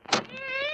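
A cat gives a single drawn-out meow indoors, loud and close, rising at the start and trailing off with a steady, slightly wavering pitch.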